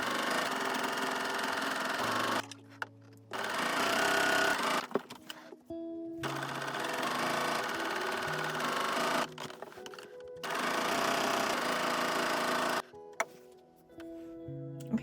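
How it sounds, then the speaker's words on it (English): A sewing machine stitches jelly roll fabric strips onto a quilted bowl cover in five long, steady runs, each broken by brief pauses with light clicks and handling sounds. "now I'm going to go back and sew the next one on"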